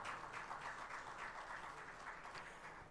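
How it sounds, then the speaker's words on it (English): Faint, steady applause from a book festival audience for a panel, a room full of scattered clapping heard from a distance and lasting the whole moment. "a round of applause for the panel"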